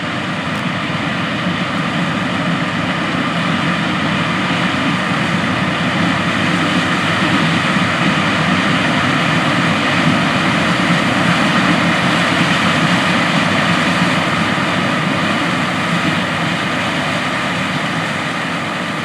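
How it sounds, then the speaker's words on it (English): Modern John Deere S780 combine harvester running in a corn field during harvest, a loud, constant engine and machinery roar with no letup and no voices. "Here we can see a modern John Deere S780 combine"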